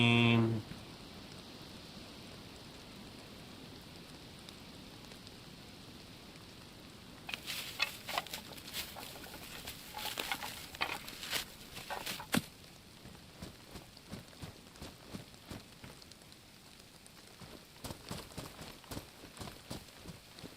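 Rain in the survival video game DayZ, a soft steady patter that thickens into louder, choppy bursts of drops partway through, staying fairly faint overall.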